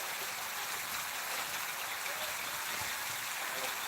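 Heavy monsoon rain falling in Gujarat, a steady, dense hiss of downpour pattering on surfaces, even and unbroken throughout, with faint background voices.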